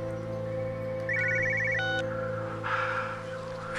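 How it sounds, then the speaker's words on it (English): An old-fashioned mobile phone rings in the video game Everybody's Gone to the Rapture, a bright electronic trill of rapid repeated beeps over a low steady ambient hum, followed by a brief stepped tone and a softer shimmer. "Is that an old-fashioned mobile phone?"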